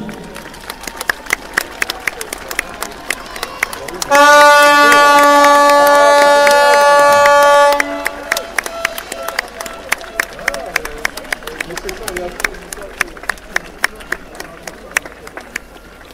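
A crowd applauds steadily at the return of the tall ship Hermione to the Rochefort arsenal, with dense clapping throughout, while a loud, sustained horn-like tone blares for several seconds in the middle.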